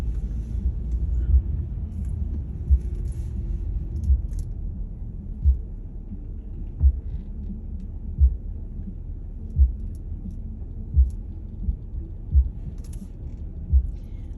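Deep, booming bass thumps repeat at a steady beat over a low rumble, music pounding from a passing car on a street in Brooklyn, New York.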